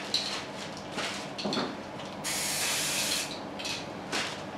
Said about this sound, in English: turn the can upside down and spray it for a little bit to clear out any paint